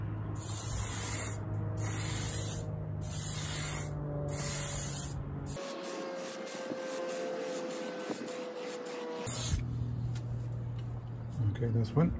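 Lacquer sprays from an aerosol can onto a scuffed Ford Fiesta Mk6 headlight lens, coming as a string of close, steady hissing bursts with short pauses between passes, over a low background hum.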